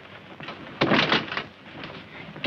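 A door on an old film set is shut with a heavy thud followed by rattling and scraping as it is locked, set against a low room hum.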